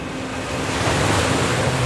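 Open sea surf and wind roar, a broad rushing wash of ocean waves that builds steadily louder, with no voices.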